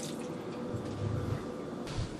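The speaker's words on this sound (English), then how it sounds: "Then you put a cup of water in there." A cup of water is poured into a pan with brown sugar for the apple stuffing of a roast pork crown, a faint, short splashing trickle against soft kitchen background noise.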